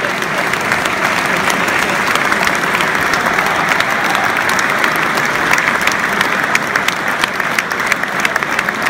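Football stadium crowd at a Crystal Palace versus Tottenham Hotspur match applauding in tribute to a club legend, a loud, dense, sustained wash of clapping from thousands of people.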